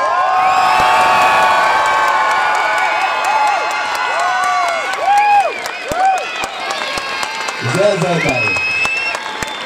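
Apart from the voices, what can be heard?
climate demo crowd shouting, stamping and clapping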